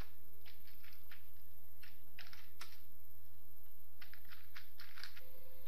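Computer keyboard typing C code, light irregular key clicks in short clusters over a steady low hum, close and quiet with no talk.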